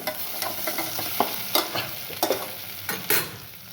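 Mixed vegetables for a veggie pasta frying in a pan, with soft sizzling under a series of sharp scraping stir strokes that recur every second or so, close up and with no talking.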